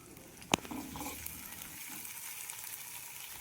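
Shallots, curry leaves and dried chilies dropped into hot oil in a pan, giving a sharp splash and then a steady, close sizzle and crackle that fades to a softer fry.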